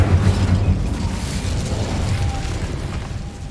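Incendio fire spell cast in Hogwarts Legacy, a loud, dense whooshing burst with booming low rumble that holds steady and fades slightly over a few seconds, with no talk.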